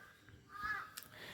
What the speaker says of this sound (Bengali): অনেক টাইম ধরে দাঁড় কাকটা ডাকছে